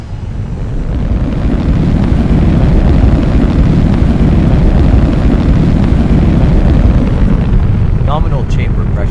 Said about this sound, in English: Landing burn startup.